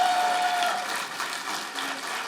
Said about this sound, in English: The claps must not be stopped.